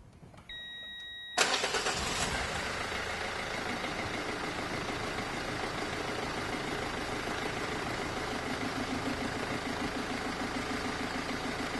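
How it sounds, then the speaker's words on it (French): A Renault Scénic dCi diesel engine with freshly changed glow plugs starts up. A pair of dashboard beeps comes first, then the engine cranks briefly, catches and settles into a loud, steady, clattering diesel idle nearby. "On va tester le démarrage pour voir si la bougie est préchauffée bien."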